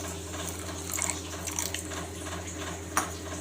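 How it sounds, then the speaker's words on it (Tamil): Water is poured into a bowl of semolina (rava) while preparing kalkal dough: a soft, steady trickle and splash, faint and close, with no talking. "அதில் தேவையான அளவு தண்ணி சேர்த்துக்கலாம்."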